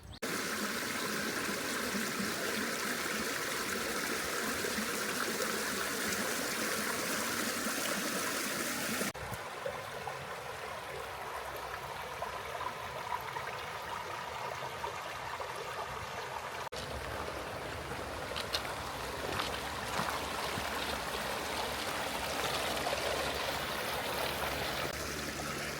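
A mountain stream on a Swiss Alps trek rushes and burbles in a steady, close, continuous wash of water, its tone shifting slightly at two points as the vantage changes.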